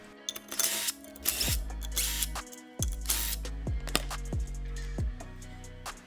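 Metal tools clack and clink while the flywheel side of a neglected Honda RM250 two-stroke engine is taken apart, a series of separate sharp knocks and scrapes with short pauses between them, close up and with no voices.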